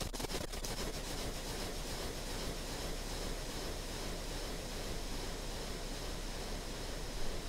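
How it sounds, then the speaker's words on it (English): Airwindows Chamber2 reverb plugin in which repeating echoes smear into a dense, continuous hissing reverb wash that sustains loudly and evenly throughout, with no speech. "It's turning into a reverb wash."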